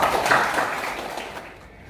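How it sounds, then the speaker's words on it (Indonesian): Audience applause in a room during a teacher certification performance exam for Islamic religious education, a dense burst of clapping that starts strong and gradually thins and fades toward the end. "Kasih aplaus untuk kita semua"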